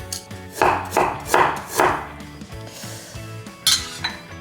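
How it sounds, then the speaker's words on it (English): Knife chopping on a cutting board as ginger is peeled and sliced, a run of four or five loud, evenly spaced thuds followed by lighter cuts and a sharp clink near the end, with no talking. "The next thing is ginger. We need to peel it and slice it."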